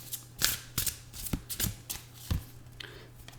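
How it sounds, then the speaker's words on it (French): Angel love oracle cards being shuffled by hand, several quick riffling flutters and soft slaps, close-up and alone. "on va quand même vous tirer une carte des anges de l'amour"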